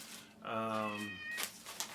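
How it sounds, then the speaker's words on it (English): A single drawn-out cat meow, close and fairly clear, with a person talking softly just after. "sorry for the cat meowing"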